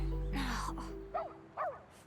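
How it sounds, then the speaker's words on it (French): A dog gives two short, sharp barks in quick succession, following a brief voice. "On dirait bien que c'est l'aboiement de"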